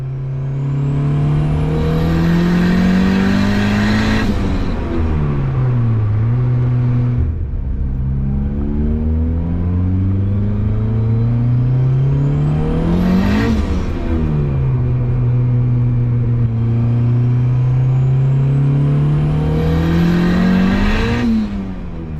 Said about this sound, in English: it just spins in second gear, but then when we get into the higher gears where it's going to make more boost based off of load, it just runs right into boost cut.